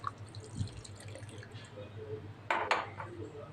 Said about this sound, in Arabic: هحط كبشة شوربة